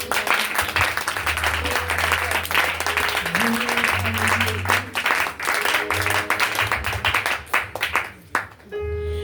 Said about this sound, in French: Acclame le Seigneur.